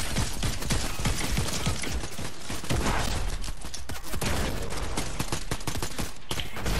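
Gunfire in the Fortnite video game, including sniper rifle shots, comes as a dense, loud, continuous barrage of overlapping cracks and bursts with no pause throughout.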